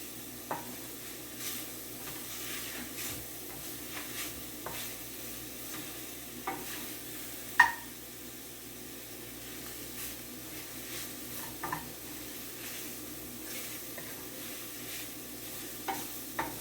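King oyster mushrooms sizzling in a pan while being stirred, a soft steady frying hiss punctuated by occasional utensil scrapes and taps, no speech.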